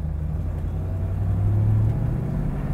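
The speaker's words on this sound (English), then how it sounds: "Get out here and listen to this exhaust." A 1971 Chevrolet Camaro idles with a steady, deep exhaust rumble, its low drone swelling slightly midway as the throttle is barely touched, continuous and close with no talking.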